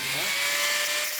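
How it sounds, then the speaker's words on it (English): A grinder fitted with a 1mm grinding disc cuts between two armoured plates of an SdKfz 221 light armoured car, giving a loud, continuous high-pitched whine with a steady tone, close up. "What I'll do is I'll just run a 1mm grinding disc through there."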